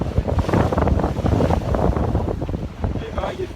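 Waves and wind buffet a sailboat cruising at sea on the Mediterranean between Le Lavandou and Rome, a continuous rushing wash with wind noise on the microphone, loud and steady throughout with some talk mixed in.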